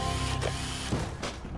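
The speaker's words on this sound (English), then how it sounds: "It's time once again to upgrade another weapon." A weapon upgrade machine in BioShock grinds away with ratcheting, gear-like clicks over a steady mechanical hum, with a few brief clunks breaking through.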